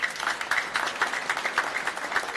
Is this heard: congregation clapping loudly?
yes